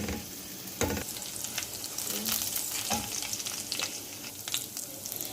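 Chopped garlic frying in hot oil until brown, a steady close sizzle with occasional louder scrapes and stirring clatter, no voices.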